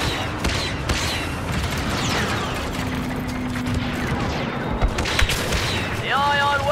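Ion weapons firing in a video game battle, a continuous barrage of sci-fi blasts and booms with a rising whine near the end, steady and loud, with game voices mixed in.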